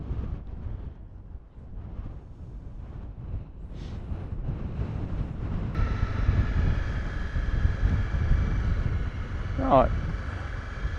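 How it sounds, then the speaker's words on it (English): Wind rumbles and buffets the microphone beside a South Australian harbour jetty, building gradually, while a steady engine-like drone and brief tonal sounds come in partway. "It's windy."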